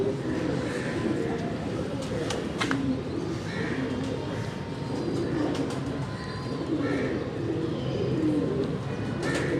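Pigeons on a Karachi rooftop coo in repeated low, rolling phrases, several birds overlapping near the microphone, with scattered chirps and faint background noise.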